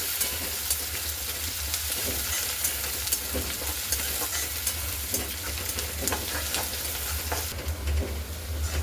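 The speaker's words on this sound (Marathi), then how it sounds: "कांदा छान लाल होईपर्यंत तळून घ्यायचा" Onions frying in a pan until browned for a traditional Vidarbha moong vadi curry, a dense continuous sizzle with frequent stirring scrapes and clicks from a spoon, close and steady throughout.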